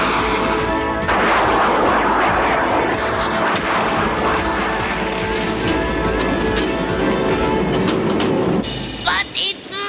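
A loud, continuous rumble and clatter of a train running close by, steady throughout, with a few sharp metallic squeals near the end.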